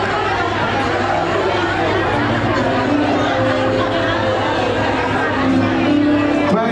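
A seminar audience of teachers and supervisors greeting one another at once, a dense, steady babble of many overlapping voices filling the hall at close range.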